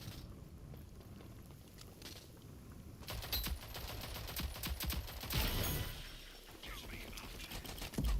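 Enemy player gunfire in a video game, rapid bursts of shots crackling over game noise with a voice talking quietly underneath, growing denser midway.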